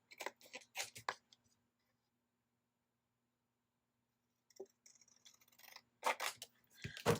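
Scissors snipping photographs for an album, a quick run of crisp close cuts, a long quiet pause, then more sharp snips and paper handling, with no talk.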